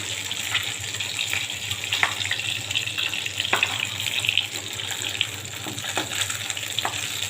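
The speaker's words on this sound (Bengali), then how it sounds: "বগনি মাছটা আমি আগে হলুদ লবণ দিয়ে মাখিয়ে ভেজে নিচ্ছি।" Bogni fish coated in turmeric and salt frying in oil, a dense, watery hiss with sharp spits and crackles popping throughout, loud and close.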